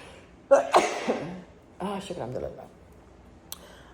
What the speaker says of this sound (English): And I just sneezed.